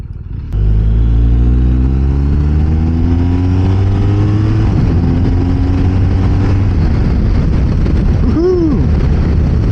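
A 2024 BMW K 1600 GT motorcycle accelerates hard on a road ride near Austin, Texas, its six-cylinder engine climbing through gears in a loud, continuous rising roar with steady wind rush behind it.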